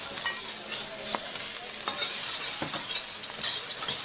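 Nasi goreng fried rice is stir-fried over an open flame, giving a steady loud sizzle with repeated scraping and clanking of the spatula against the wok, close up and with no one speaking.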